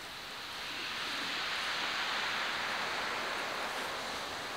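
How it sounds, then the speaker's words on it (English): Ocean waves crash steadily onto a beach at a solo beach camp, making a continuous broad surf wash that swells slightly and holds at a moderate level, with no voices. "The waves are still crashing on the beach."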